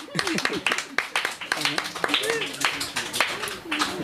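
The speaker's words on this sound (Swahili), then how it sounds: "Wapigie makofi" Scattered hand claps from a small group at an orphanage in Madale, rising under lively overlapping talk and voices.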